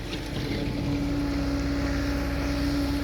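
A tractor engine pushing soil runs close by, steady and droning with a low, constant hum and a faint tonal whine, unchanging for the whole stretch.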